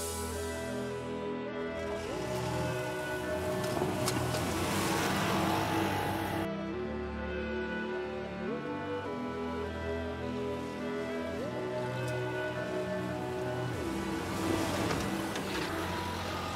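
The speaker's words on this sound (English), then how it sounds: "The road is dry enough, and our ATV shows here its power and acceleration." A tracked ATV with a 1-liter, 85 hp engine drives along a dry old forest road. The motor drones loudly and continuously, and its pitch rises and falls with acceleration.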